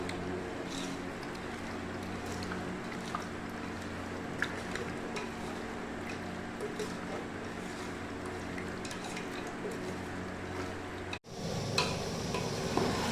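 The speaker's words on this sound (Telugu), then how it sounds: "ముక్కలకు బాగా మసాలా పట్టేలాగా కలుపుకుందాం." Chicken pieces stirred with masala paste in a pot, a steady close scraping and sizzling texture that runs continuously, then a brief cut followed by louder mixing.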